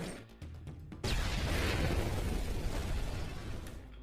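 A loud explosion bursts from a door in a film scene, with a sudden heavy blast followed by a sustained rumbling roar and debris noise that slowly fades.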